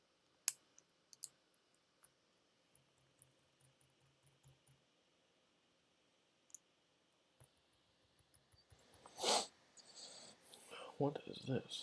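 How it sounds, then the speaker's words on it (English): Keycaps being pressed onto a KBD8x MKII mechanical keyboard: a scatter of sparse, light clicks and taps spread across the quiet stretch, followed by a louder burst of rustling, handling and scraping near the end. "just putting on keycaps now."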